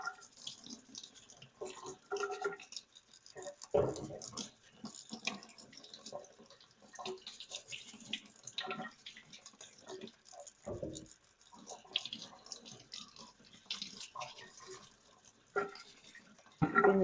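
Water running and splashing in a sink while freshly harvested potatoes are scrubbed, with irregular rubbing, drips and soft knocks close by.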